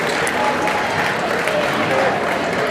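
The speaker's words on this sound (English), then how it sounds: "a round of applause when they enter" Dense crowd applause fills a high school boys basketball gym as the team enters, a loud steady wash of clapping and crowd noise with voices mixed in.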